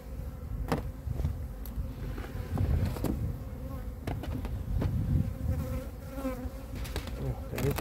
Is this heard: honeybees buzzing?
yes